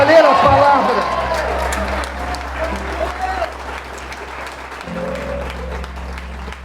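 A church audience claps loudly in applause, strong at first and then easing into a steady, thinner patter, with a crowd murmuring and voices talking under it.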